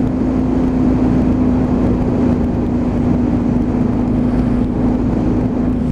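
Triumph Speed Triple 955 motorcycle with an aftermarket exhaust can cruising in sixth gear at about 62 mph on a dual carriageway, a steady loud engine drone with wind roar throughout, no revving changes.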